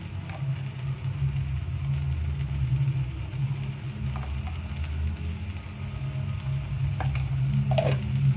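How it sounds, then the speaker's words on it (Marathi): Amla candy mixture frying in ghee in a pan, a steady soft sizzle with occasional stirring scrapes and clicks running continuously without any speech. "पुन्हा परतून घेते। यामध्ये आपण 2 चमचे तूप घालूया."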